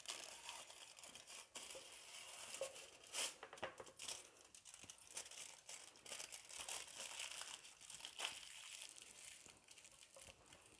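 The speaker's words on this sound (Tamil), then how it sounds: "இந்த மாதிரி அலுமினியம் ஃபாயிலில் சுற்றி வச்சுருங்க." Aluminium foil taken from a roll is crumpled and crinkled around food while wrapping, a close, quiet run of crackling rustles with sharper crunches scattered throughout.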